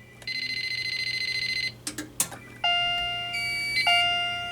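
A Fire-Lite ANN-80 fire alarm annunciator in drill mode sounds a steady high buzzing tone, breaks off for a few clicks, then switches to a different sustained warning tone.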